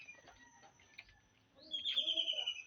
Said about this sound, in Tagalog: Umaga-umaga, maririnig mo huni ng ibon.